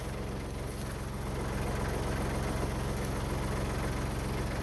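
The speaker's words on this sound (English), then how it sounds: "the tractor off so you can hear me better." A tractor engine idles steadily, a low, continuous rumble with a faint rhythmic knock throughout, fairly loud and close, no voices.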